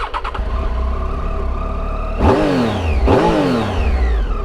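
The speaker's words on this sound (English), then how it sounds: "I love the sound of that triple engine" Triumph Tiger 800 motorcycle with a triple-cylinder engine idling close by in a garage, then blipped twice in quick succession, each rev rising sharply and falling back to a steady idle.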